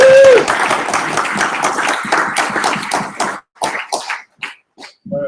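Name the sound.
audience applause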